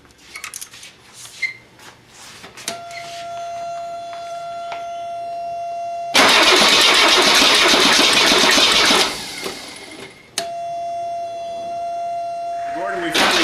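A Mercedes 300D diesel engine, just back together after a cylinder head replacement with its injectors bled, cranks with a loud, rough burst of about three seconds, then settles into a steady droning run with a high whine over faint background noise.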